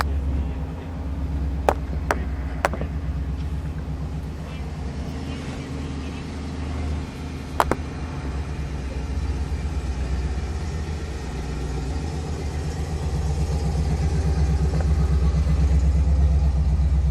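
A 1951 Ford Custom Convertible in Alpine Blue with a V8 and overdrive idles steadily and close by, a low, even rumble with a few sharp clicks near the start and a slight swell toward the end.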